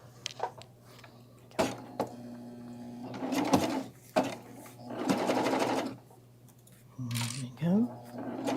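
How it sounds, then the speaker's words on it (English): A sewing machine stitches in several short bursts of whirring, separated by clicks, handling noises and pauses, with a person speaking briefly nearby. "and then we're just going to start to sew."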